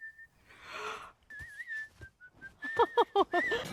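A melodic tune is whistled close by, wavering and rising in short phrases, then broken into quick staccato notes near the end.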